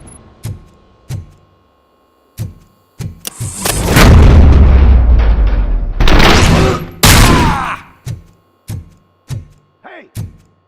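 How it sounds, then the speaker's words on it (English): Gunfire in the RoboCop: Rogue City video game: isolated sharp shots, then a long, loud burst of sustained automatic fire and heavy booms, followed by more scattered single shots, with voices speaking in between. "Am I hearing gunshots?"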